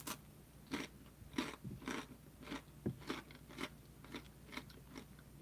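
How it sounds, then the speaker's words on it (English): Someone bites and chews crunchy homemade pizza crust with sun-dried tomatoes in olive oil, making close, quiet crunches in an irregular rhythm, with no talking. "I'm eating the rest of it for the crunch."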